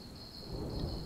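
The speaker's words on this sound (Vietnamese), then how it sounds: "mưa nặng trĩu bắt đầu rơi xuống xối xả" Heavy rain pours steadily with a low rumble of thunder underneath, a brief, fairly faint storm effect with no voices.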